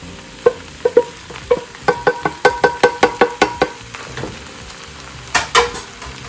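Cabbage and cooked rice stir-fried in a pan for shrimp fried rice, with a spatula scraping and tapping in a quick rhythmic run of close, clear strokes over a low sizzle.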